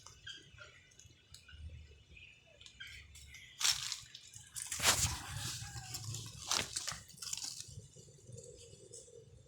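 A large monitor lizard plunges into water, giving a couple of sharp, close splashes and sloshes over faint outdoor background noise.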